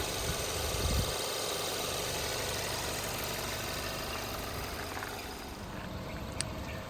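The 2.0 liter 4-cylinder EcoBoost engine of a 2018 Ford Edge SEL AWD with 103,000 miles idles with the hood open, a steady, smooth hum with a light mechanical rattle, close and unbroken for several seconds.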